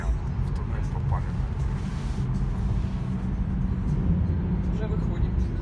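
A car rolls through a road tunnel, a steady low rumble that fills the space evenly and stays fairly loud throughout, with people talking over it.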